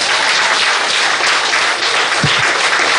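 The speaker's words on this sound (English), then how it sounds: "We deserve a round of applause, you too." Dense, steady applause fills a UNC political rally on the hustings in San Fernando, Trinidad and Tobago, a loud unbroken roar of many hands clapping with a brief voice cutting through near the end.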